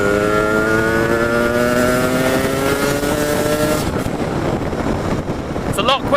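A DT125 motorcycle accelerates along a dual carriageway, its engine note climbing steadily in pitch for several seconds before shifting and settling under loud, constant wind and road noise.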